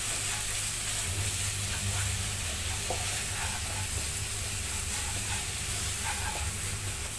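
Onion, tomato and masala powders fry and get stirred in a pan for a Madras chicken curry, a dense, continuous sizzle with scattered scraping clicks from the spoon, loud and close with no talking.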